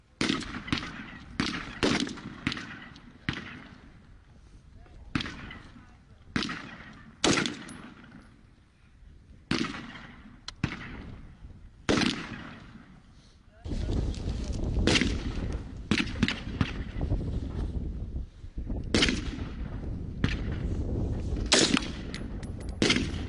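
Guns fire in sharp, repeated reports at an outdoor shooting range firing line, single loud cracks at first, then a denser stretch of overlapping shots over a steady background rumble.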